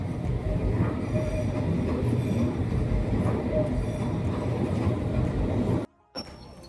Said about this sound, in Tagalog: The second train is here already.